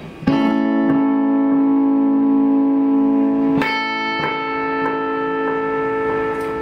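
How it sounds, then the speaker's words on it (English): A sustained guitar note rings out through a PT2399 delay pedal at maximum delay, then fresh plucked notes follow, each trailing into long echoing repeats that gradually degrade. "This is the maximum delay setting."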